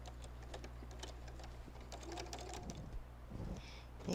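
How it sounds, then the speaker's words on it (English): Sewing machine stitching a quilted fall table runner, a quiet rapid ticking whir with a few faint clicks and handling noises close by. "stitch about 2 stitches forward and then take 1 stitch backward, and that way that'll secure your thread just a little bit."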